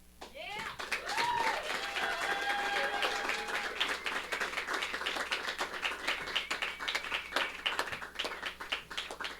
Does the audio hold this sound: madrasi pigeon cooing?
no